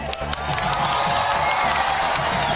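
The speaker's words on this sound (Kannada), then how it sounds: "ಕೊಡ್ರಿ ಚಪ್ಪಾಳೆ ಅವ್ರಿಗೆ" A live comedy show audience applauding and cheering for the sponsors, a dense continuous wash of clapping and crowd noise, loud and sustained throughout.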